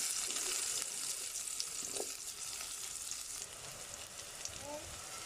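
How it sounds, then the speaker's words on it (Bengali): Onions fry in oil with spices in a pan, giving a soft, steady sizzle with occasional light scrapes and clinks of stirring, fairly quiet and close. "এরপর পেঁয়াজটা দিয়ে দেব, পেঁয়াজটা দিয়ে দিলাম।"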